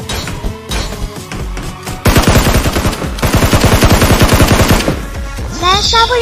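Rapid bursts of automatic gunfire from the Peace Elite battle royale shooter, loud and dense with regular repeating shots over a couple of seconds, followed by rising electronic game effects near the end.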